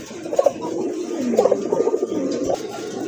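Pigeons coo at a market stall selling pairs of birds, several low throaty rolling calls in short bursts over a light background hum.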